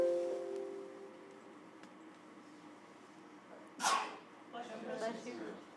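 A single sharp sneeze bursts out in a meeting room during a board of education work session, following a faint murmur of room noise and brief tonal sounds, with some softer rustling and breathy noise afterward.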